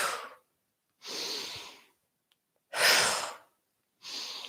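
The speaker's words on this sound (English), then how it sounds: "Either breathing out through the nose or out through the mouth." Strong, forceful breaths pushed out through the nose or mouth during a gentle yoga class, four loud breathy exhales in a slow rhythm with silent pauses between them, close to the microphone.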